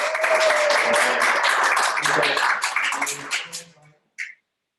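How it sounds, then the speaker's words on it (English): Applause from a meeting audience rises at once and holds steady and full for about four seconds before thinning out, with a brief final clap and some voices mixed in. "let's give everybody a round of applause"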